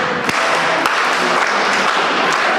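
A wrestling crowd at a tournament show claps and cheers in a dense, steady wash of applause, with a few sharp claps standing out.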